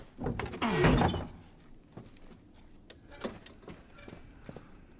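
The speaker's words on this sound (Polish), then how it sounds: "A ty zamknij drzwi." A door pushed shut in The Last of Us Remastered on PS4 Pro, with a loud scraping swing and thump near the start followed by fainter knocks and footstep-like taps in a quiet interior.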